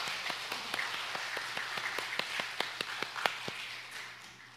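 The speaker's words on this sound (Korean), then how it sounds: "우리 하나님께 영광의 박수 올려드리겠습니다" A church congregation gives sparse, scattered applause, a few distinct hand claps spaced irregularly over a soft room hum, fairly quiet and not building into a full ovation.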